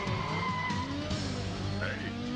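Cartoon motorbike skidding off, a continuous loud screech of tires with sliding pitch tones over engine rumble, filling the whole moment with no talk.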